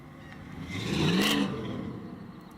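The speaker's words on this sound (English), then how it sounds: "that sounds like a small block Chevy" A small-block Chevy truck engine revs up and fades, a mid-pitched whirring swell peaking briefly in the middle of a short, fairly faint pass.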